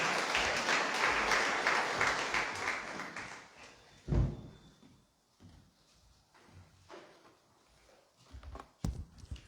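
An audience at a poetry gathering claps loudly to welcome poet Dr. Swati Nayak. The dense applause fades after several seconds, followed by a few thumps and scattered claps in the hall.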